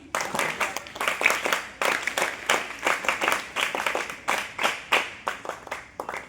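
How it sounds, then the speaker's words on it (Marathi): An audience at an open-air constitution awareness street play claps in a steady, rhythmic beat, loud and continuous throughout, with faint voices mixed in. "वाजवा टाळ्या वाजवा टाळ्या वाजवा टाळ्या"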